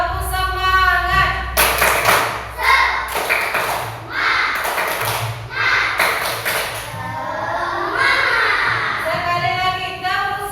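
Schoolchildren in a fourth-grade classroom perform a rhythmic spirit clap, sharp bursts of hand claps in patterned groups with loud thumps, mixed with the children's voices chanting and calling along throughout.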